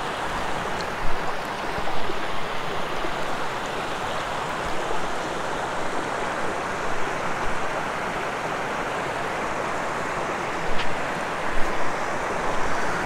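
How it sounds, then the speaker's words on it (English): A forest river rushes over rocks in Galloway Forest, a steady, loud broadband wash of flowing water with occasional gusts of wind buffeting the microphone. "And there's your river. Beautiful location."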